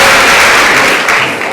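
A short, loud burst of audience applause sounds close by, a dense wash of clapping that fades slightly as it ends.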